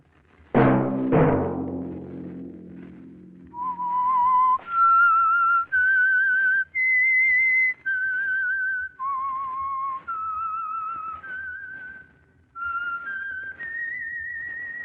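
A clear, solo whistled theme melody of sustained notes from a 1951 radio drama, rising and falling in short phrases, opening after two sharp percussive hits.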